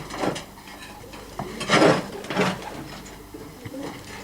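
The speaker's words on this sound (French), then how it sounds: "il s'occupe alors des pigeons" Soft pigeon coos come in short bursts, close by, with some faint clattering in the background.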